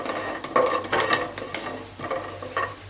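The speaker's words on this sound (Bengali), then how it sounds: "বড়িগুলো আমার ভাজা হয়ে গেছে।" Lentil dumplings (bori) sizzle in a frying pan for a small-fish dish, a close crackle broken by several sharp scraping bursts as the spatula turns them.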